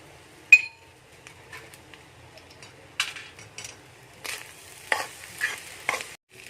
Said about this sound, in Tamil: பெப்பர் தூள், அஜினோமோட்டோ, தேவையான அளவு உப்பு போட்டு நல்லா மிக்ஸ் பண்ணி விடுங்க.